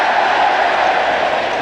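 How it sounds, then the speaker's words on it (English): Home football crowd at a 1981 Division Three match between Swindon and Bristol City, letting out an ironic cheer, a broad sustained roar of many voices heard from a distance and steady throughout. "an ironic cheer from the home fans there"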